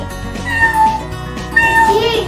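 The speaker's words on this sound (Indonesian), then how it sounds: "Kucing. Berarti kalian tinggal pilih binatangnya kucing." A cat meows twice, drawn-out and plaintive, with a short pause between calls, heard fairly close over faint background noise.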